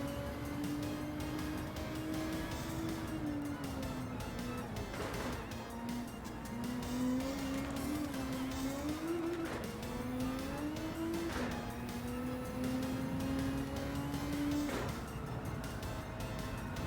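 A race car in the Gran Turismo video game brakes and corners, its engine note falling and rising through gear changes in a steady, close drone with no talk.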